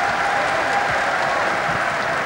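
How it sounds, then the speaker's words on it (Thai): A crowd at a boxing championship belt ceremony applauding a junior flyweight boxer, loud continuous clapping throughout, close and dense with no gaps. "ขอนับปรบมือเป็นเกียรติให้กับนักมวยด้วยครับ"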